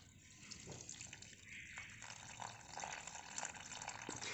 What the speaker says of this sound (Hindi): अब दे देते हैं इसमें पानी